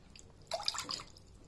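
Water splashes briefly into a bowl set out for making semolina upma: a single soft, close pour lasting about half a second against a quiet kitchen background.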